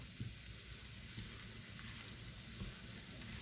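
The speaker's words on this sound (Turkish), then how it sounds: "Şöyle güzelce her taraflarını karıştıra karıştıra yakmadan kızartacağız arkadaşlar" Kadayif shredded pastry frying in a pan while being stirred, a soft continuous sizzle with faint scraping and crackle, close and quiet, no talking.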